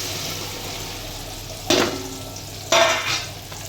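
Sliced okra and asafoetida hit hot oil in a home kitchen, a steady sizzle broken by two bursts of sharper crackling as the pieces are stirred, close and clear with no talk.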